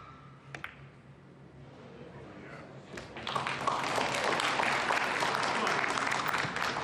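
Crowd at the 2024 US Open Pool Championship quarter-final between Fedor Gorst and Jefrey Roda: quiet murmuring and a few knocks, then strong applause bursting out and holding steady, with a commentator's voice beneath.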